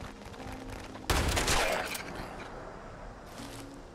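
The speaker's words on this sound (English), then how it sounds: "Shotgun's so loud." A shotgun blasts once in the video game Fallout 76, a loud sharp crack that trails off over a second against quiet game ambience.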